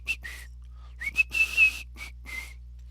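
A single person whistles a melodic tune in short phrases with brief pauses, clear and close against a quiet background with a steady low hum.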